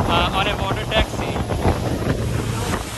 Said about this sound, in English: on a water taxi.